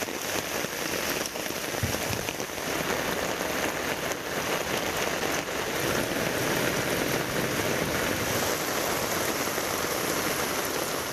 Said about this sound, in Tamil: திருச்செந்தூர் சுற்றுவட்டார பகுதிகளில் இரவிலும் கனமழை வெளுத்து வாங்கியது.